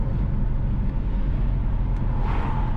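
A car drives along West Avenue, a city street in Kingston/St Andrew, Jamaica, with steady, fairly loud road and engine rumble that holds even for the whole stretch and no voices.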